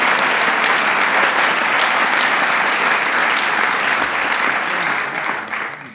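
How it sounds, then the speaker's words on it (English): Sustained loud applause from a large audience honoring members of Congress at a presidential defense bill signing, continuous clapping that tapers off near the end. "You can give members of Congress a round of applause as well."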